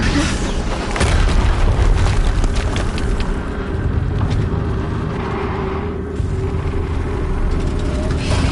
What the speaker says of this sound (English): Another explosion.